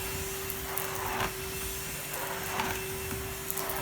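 A Henry cordless vacuum cleaner runs with a steady, fairly loud whooshing drone and a constant tonal hum, with faint bumps and rubbing as it moves over the floor.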